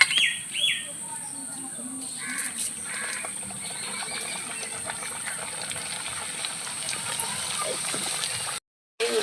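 Semolina puri frying in hot oil, cooked the village way, with a dense bubbling crackle held steady throughout, faint birdsong in the background and a brief dropout near the end.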